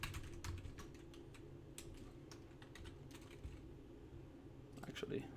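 Rapid keyboard typing while C# console code is entered on a computer, with irregular clicks running throughout, steady and close, over a low background hum.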